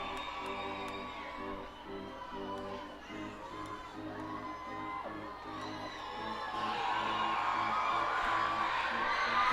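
Baseball stadium crowd at a minor league game between the New Hampshire Fisher Cats and Reading Fightin Phils, cheering and whooping steadily throughout, swelling louder toward the end with a dense roar of many voices.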